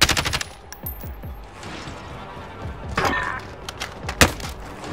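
Gunfire in the video game Warzone: a rapid automatic burst at the start, then scattered single shots and short bursts of varying closeness, with sharp loud cracks near the end.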